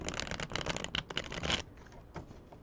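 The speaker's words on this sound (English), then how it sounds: "I think I'm getting the hang of shuffling these cards." Tarot cards being shuffled by hand, a dense run of papery riffles and flutters for about a second and a half before dropping to softer rustling.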